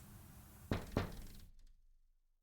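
Two sharp knocks on a door in a horror video game, close and distinct about a third of a second apart, then a short fading tail into silence.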